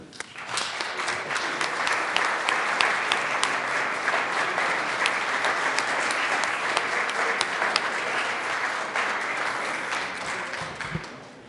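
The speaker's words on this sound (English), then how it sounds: "if you would be kind enough to welcome them and give them a round of applause" Sustained applause in the Colorado Senate chamber welcoming CSU social work students, a dense, even crowd clapping that holds steady for about ten seconds before tapering off.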